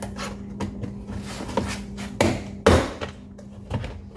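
Plastic clips holding a BMW X driver's side interior door panel pop loose in a few sharp snaps amid scraping and rubbing, the loudest two close together.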